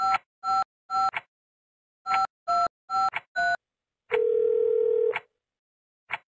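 Telephone keypad tones from a phone-booth puzzle game, a series of short paired beeps in quick bursts followed by a longer steady tone, then a final click, all clear and close with no talking.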